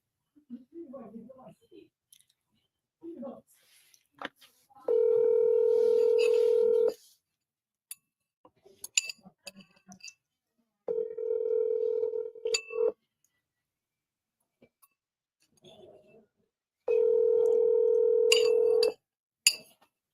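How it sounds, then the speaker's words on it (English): A phone call rings out with three long, evenly spaced ringback tones separated by pauses holding faint clicks and soft background sounds before the line goes to voicemail. "Oh, by the way, I need to call Tanya, our newest dispo gal."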